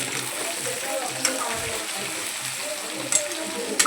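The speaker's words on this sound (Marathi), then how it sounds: "आणि तेल आपलं तापलेलं आहे। आता वांगे सोडून घेऊया।" Brinjals sizzle in hot oil for a Marathi-style kharo vango dish, a steady close hiss of frying with light scrapes of stirring and a couple of brief clatters.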